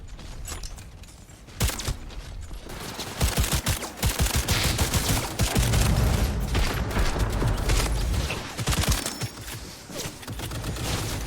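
Rapid gunfire from the medieval video game Kingdom Come Deliverance II, dense bursts of shots rattling through most of the stretch, loud and close with mechanical clatter between volleys.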